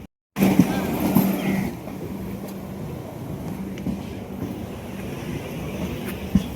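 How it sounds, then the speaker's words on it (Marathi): A Konkan Railway train pulls out on a rainy-season run from Mumbai toward Rajapur, giving a steady close rumble with a low hum and occasional rattles, and faint voices are audible beneath it. "ट्रेन पण निघाली इकडून"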